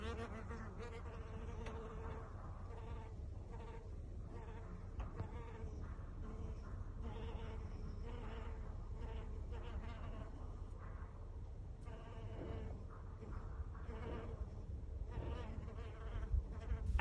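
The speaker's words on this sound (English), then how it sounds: "And I think this is a male hairy-footed flower bee." Steady insect buzzing from a male hairy-footed flower bee in a garden, a continuous drone running through the whole stretch with no talking.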